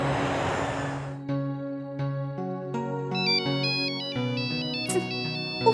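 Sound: phone ringtone ringing

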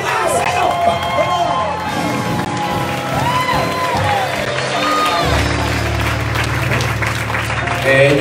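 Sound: applause and shouting from a church crowd

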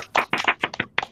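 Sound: people clapping for Dina

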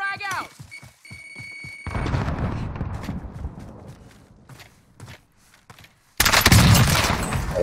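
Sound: gunfire in the video game Call of Duty Warzone

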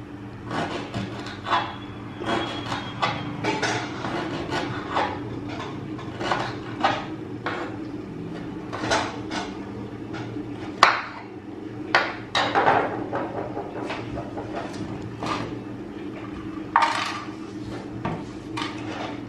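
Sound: chopping ingredients into tiny pieces

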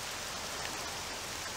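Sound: rain falling in video game Octopath Traveler 2

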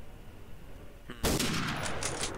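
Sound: gunshots in the WWII video game roleplay

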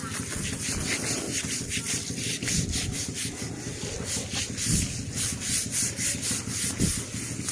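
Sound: scrubbing an elephant's skin during a bath

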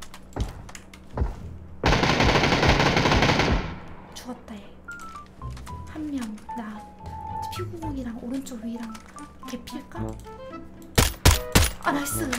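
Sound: gunfire in a video game

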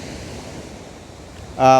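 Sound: sea waves on a beach

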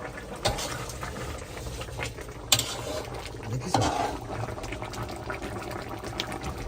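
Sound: fish curry boiling in pot

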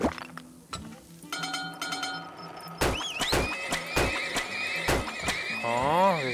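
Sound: horses neighing in the video game Turmoil

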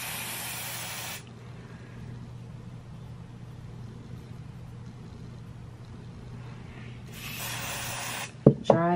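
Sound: hair spray being sprayed along the hairline

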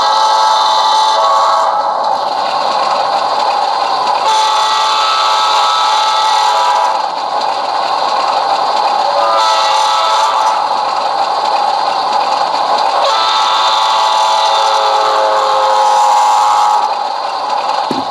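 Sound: railroad crossing horn sequence from Rapido HO model Alco PA locomotive

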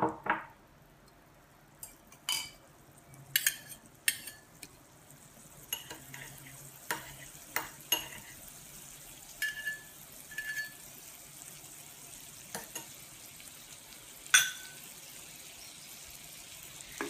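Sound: butter melting and sizzling in a pan over high heat

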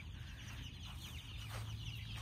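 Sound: chickens clucking

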